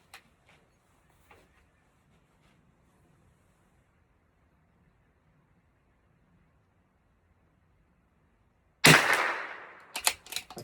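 A single sharp, loud rifle shot fired outdoors with slight pressure on the scope, cracking after a long near-silent wait and followed by a few brief clicks.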